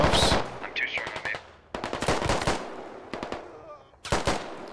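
Rapid bursts of automatic gunfire in the military shooter game Squad, sharp repeated cracks in several volleys with short pauses between them.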